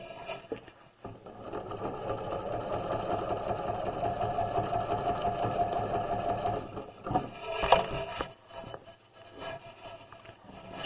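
A sewing machine stitches across a pillow, running in a steady, fast, continuous whir for several seconds, then pausing briefly before resuming in shorter bursts close by.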